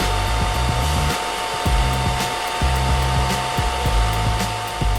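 A blow dryer runs steadily and loudly close by, its constant whirring hum filling the whole stretch with brief rustling bumps and thuds over it.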